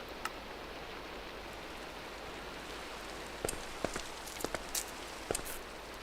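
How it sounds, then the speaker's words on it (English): Steady rain hiss from a video game, Reclamation, fills the whole stretch as an even wash, with a few sharp clicks and taps scattered through the latter half. "I need to turn the rain off."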